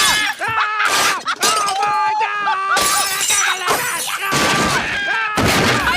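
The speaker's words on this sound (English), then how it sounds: "The two went absolutely feral, smashing everything in the house" Cartoon characters tear through a house in Family Guy, with repeated loud crashes, thuds and shattering glass bursting out over busy voices and music.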